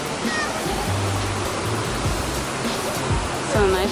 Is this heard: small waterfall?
yes